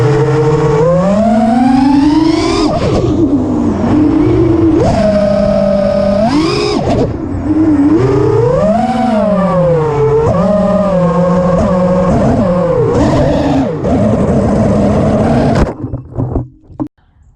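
A drone fitted with 2208.5 motors flies, its loud whining motor pitch sweeping up and down continuously with throttle changes, close and steady, before cutting off near the end.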